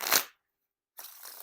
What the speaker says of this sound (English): It's been like 5 or 6 shuffles that I just did right now.